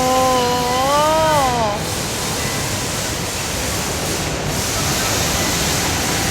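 Water fountain inside the ICONSIAM mall, a loud, steady rushing and splashing that fills the space; a voice briefly sounds over it at the start.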